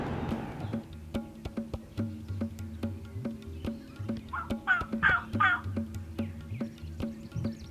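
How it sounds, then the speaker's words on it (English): Wild turkeys gobble at dawn during a spring hunt, a rattling burst of three or four calls at moderate distance amid steady ticking clicks and a low background hum. "they sound like they keep gobbling, so that's a good thing"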